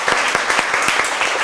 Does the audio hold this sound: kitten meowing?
no